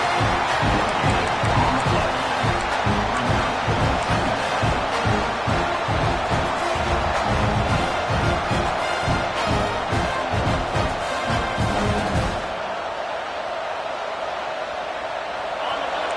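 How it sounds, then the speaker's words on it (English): Stadium crowd roaring steadily in a Florida Gators college football video game, a dense, loud wash with rhythmic low thumping that drops away sharply near the end, under broadcast-style commentary. "This crowd going to try to make life miserable for these guys."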